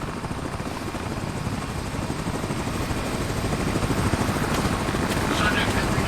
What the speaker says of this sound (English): sending a damn helicopter to catch me?